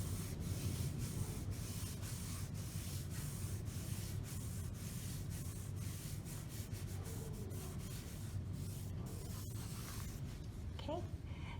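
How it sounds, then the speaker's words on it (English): A Kleenex-wrapped finger smooths a graphite pencil drawing on paper in horizontal strokes, making a steady, close, continuous rubbing hiss with faint rhythmic pulses from the strokes. "I'm just going to wrap a little bit of Kleenex around my finger, and I'm going to again work with horizontal strokes"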